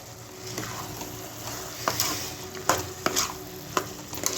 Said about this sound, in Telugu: ఇది మొత్తం ఒకసారి వేసి కలుపుకుందాం